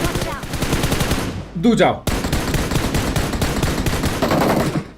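Rapid automatic gunfire in the BGMI battle royale game, dense continuous bursts broken by a brief gap around a reload, loud and close, with a player talking over it.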